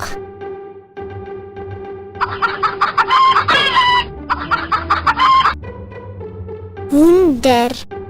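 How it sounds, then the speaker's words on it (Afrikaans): Chickens cluck in quick, repeated bursts, then a rooster crows loudly twice near the end, with the sounds close by and no talking. "Hoender."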